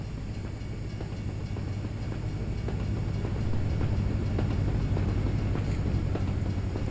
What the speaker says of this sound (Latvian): Brauks mums vilcienītis.